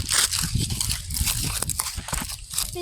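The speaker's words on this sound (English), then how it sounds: "These leaves have been waiting for so long to crunch." Dry leaves crunch and crackle underfoot while walking a dog outdoors, a dense, continuous crisp rustle of close steps throughout.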